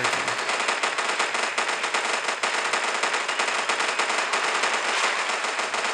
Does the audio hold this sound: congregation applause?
no